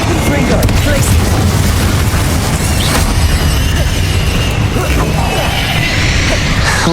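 Confringo spell blasts go off during combat in Hogwarts Legacy, repeated booming impacts and crashes under a busy layer of game noise and talk.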